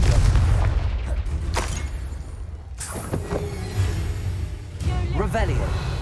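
A Confringo fire spell is cast during combat in Hogwarts Legacy. Deep booming rumbles and sharp crackling impacts punch through a dense, noisy game soundscape, with short voice-like sounds mixed in.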